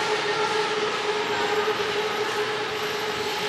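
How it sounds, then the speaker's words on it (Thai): A train running past at a steady, continuous roar, loud and close throughout with no talk, heard near a skywalk. "รถไฟนี่วิ่งตลอดเลยเด้น"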